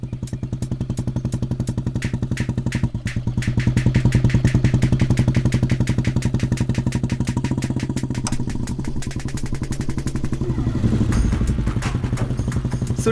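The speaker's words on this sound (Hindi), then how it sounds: "आप बुलेट बहुत अच्छी चलाती हैं।" A single-cylinder Bullet motorcycle thumps steadily at idle nearby, revving up briefly before settling and revving again as it rides away, with a low rhythmic exhaust beat throughout.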